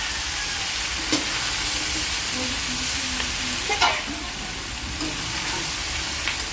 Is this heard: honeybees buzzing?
no